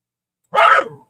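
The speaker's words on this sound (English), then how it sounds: "I tried to have her outside, and she's barking." A single sharp dog bark, close and loud, breaking an otherwise silent moment.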